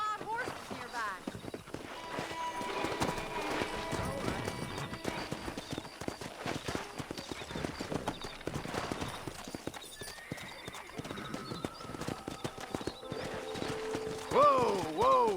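Horse hooves clip-clop at a gallop in Red Dead Redemption while hunting wild horses, a rapid drumming rhythm throughout with occasional whinnies and background game music.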